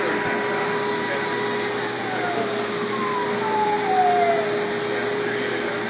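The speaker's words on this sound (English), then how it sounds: "I'll play with the motor speed." The motor of a drop tester runs at adjustable speed, giving a continuous whining drone with a steady hum and a tone that glides as the speed is changed, with no talk.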